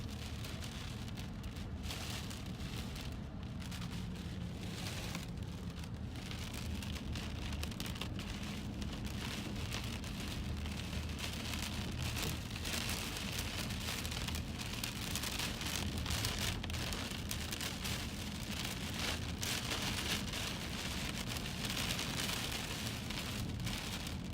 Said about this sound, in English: Core punching consists of driving through the heaviest rain and hail and sometimes even damaging winds that come along with these thunderstorms.